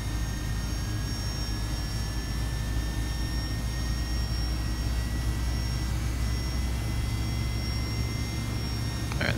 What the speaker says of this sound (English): And while that engine fires up